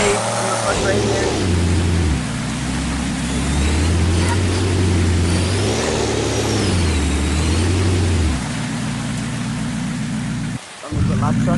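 A truck drives in the off-road video game Off-Road Outlaws, its engine droning steadily with rising and falling revs and a sudden brief cutout near the end.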